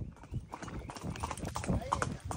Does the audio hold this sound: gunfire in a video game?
no